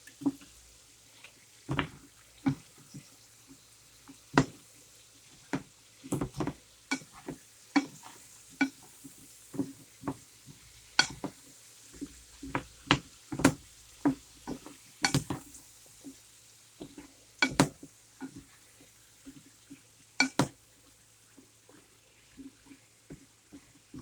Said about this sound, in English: now that you have these all sauteing in the butter and the beautiful spices and turbidity from the chops